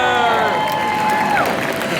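A live audience at the Fear Factor Live stunt show at Universal Studios cheers, whoops and applauds a champion. The loud, sustained crowd roar carries overlapping shouts and clapping for about two seconds.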